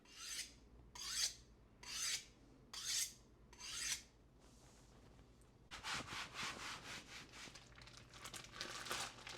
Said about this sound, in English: I'm going to be cutting this pork butt into little cubes, probably a little less than an inch square.